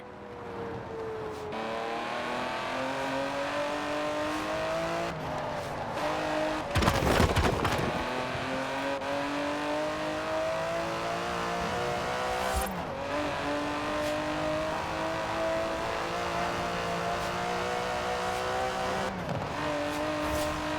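The 5.2-litre twin-turbo V12 of an Aston Martin DB11 in Forza Horizon 4 roars continuously, climbing through the revs with a few sharp gear-shift breaks and loud bursts along the way.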